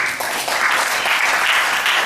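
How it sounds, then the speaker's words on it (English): An audience at an event on preventing child abuse claps for a barrister, producing a brief, dense burst of steady applause from a crowd that sounds moderately near. "please clap for Barrister"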